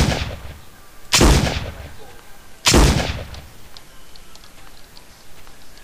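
Two loud, sharp gunshots from the video game Trespasser, about a second and a half apart, each with a booming tail over a quiet hiss.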